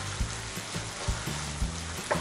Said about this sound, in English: you want to hear a nice shush noise that the noodle will be made